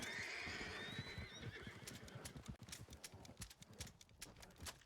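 A horse in a video game lets out a high, wavering whinny, followed by a run of hoof clip-clops that trail off in an irregular rhythm, fairly quiet overall.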